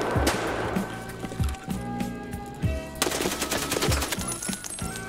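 Automatic gunfire in Escape from Tarkov rattles off in rapid bursts of sharp shots, loud and near, broken by short pauses before a sustained volley.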